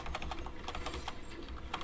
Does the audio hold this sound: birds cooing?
no